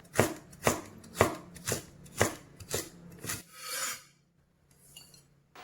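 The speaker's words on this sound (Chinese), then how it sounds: "一小块姜先切片，再切丝" Knife chopping a small piece of ginger into slices and then shreds on a board, seven sharp rhythmic cuts followed by a soft scraping sweep and a faint clink, with no voices.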